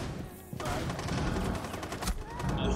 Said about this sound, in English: She just shot randomly and killed me.